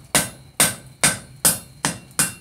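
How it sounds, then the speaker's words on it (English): A blacksmith's hammer strikes hot steel on an anvil while forging scrolling tongs. Six sharp, ringing blows land at an even, steady pace, loud and close, with no talk. "So keep tilting the hammer and hammering back into the anvil."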